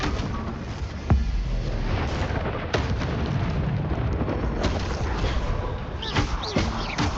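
A Confringo blasting spell explodes in the video game Hogwarts Legacy, with dense rumbling blasts and sharp bursts over continuous game noise and a loud, crackling low-end roar throughout.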